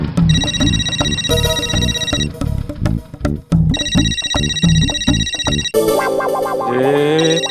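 A bright electronic ringtone plays in repeating bursts over a rhythmic musical backing, loud and close, ending in a different melodic phrase.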